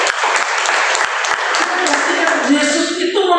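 A church congregation claps during a worship service held in an apartment, a dense, steady wash of applause filling the room for a few seconds without a break.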